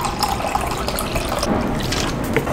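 A glass of soy sauce poured out while Korean ingredients are prepared, producing a close, trickling liquid stream with light splashes and faint clinks, steady and unaccompanied by talk.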